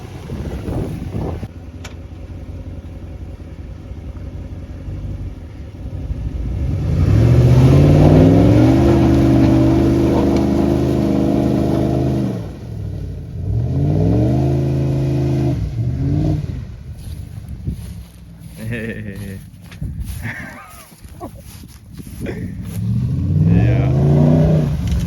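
Truck stuck in soft ground at a bushcraft cabin, its engine revving hard in repeated rising surges with steady drone between and falling back between attempts, outdoors with wind buffeting the microphone.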